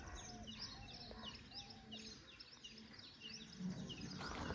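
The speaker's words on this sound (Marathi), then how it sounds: "पक्ष्यांचे आवाज येतात." Birds calling all around a villa in Karjat, many chirps and whistled calls overlapping near and far over a steady outdoor background, with a clucking fowl close by near the end.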